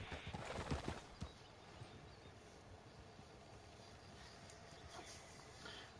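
Horse hooves clip-clop at a walk in the open-world western game Red Dead Redemption 2, a steady close rhythm of footfalls with a brief snort near the start over quiet outdoor ambience.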